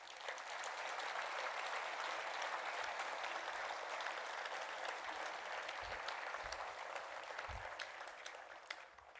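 Applause fills a hall at a mayor's New Year ceremony in Calais, a dense continuous wash of clapping with a few low thumps, heard from a distance and tapering off at the end.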